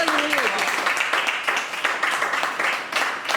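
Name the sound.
church congregation applauding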